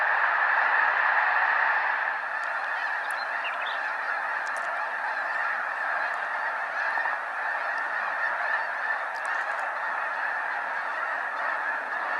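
Thousands of snow geese lift off at once in a Sacramento Valley wetland, a dense, continuous wall of raucous honking that stays loud and unbroken throughout.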